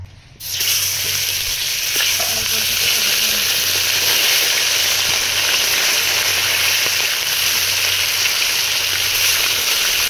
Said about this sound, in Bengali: মাছ ভাজা বসিয়ে দিয়েছি